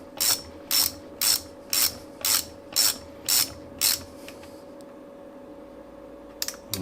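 A ratchet snugs a bolt home on a 2003 Ducati 750 SSie engine with eight even, close clicking strokes in a steady rhythm, then a pause and a few faint clicks over a low hum.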